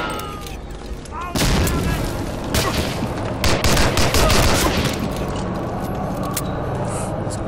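Grenade blast and gunfire in the PC game Medal of Honor Allied Assault, Operation Torch mission: a sudden loud boom followed by rapid bursts of shots over a busy battle backdrop.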